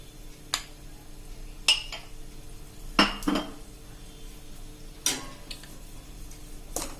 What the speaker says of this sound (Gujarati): એને આપણે આવી રીતે ઘીમાં મિક્સ કરીને ગેસ ઉપર હલાવતા જાશું